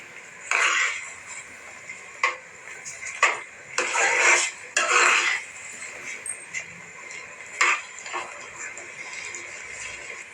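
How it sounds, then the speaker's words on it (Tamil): A spoon stirs rava khichadi in a pot, making a series of scraping, clinking bursts spaced irregularly apart, with quiet gaps in between. "கட்டி கொடுக்காத அளவுக்கு நம்ம கிண்டிக்கிட்டே இருக்கணும்."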